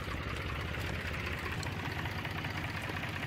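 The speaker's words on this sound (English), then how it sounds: "I can't believe I've got this tractor." New tractor engine in the farming game Farmer's Life, a steady, loud, rumbling idle with a continuous knocking pulse and no change in pitch or level.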